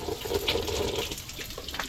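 Cold water runs steadily from a roadside tap or spout in Kosovo, a continuous near splashing flow with no talk.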